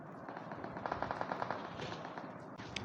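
Gunfire during a fight in PUBG Mobile: a quick burst of automatic shots crackles at moderate distance among other faint battle noise.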